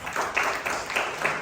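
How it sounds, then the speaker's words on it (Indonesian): Church congregation clapping during a sermon at GBI Rock Cipanas, a short, quiet burst of scattered applause heard from a distance. "Tepuk tangan untuk Tuhan"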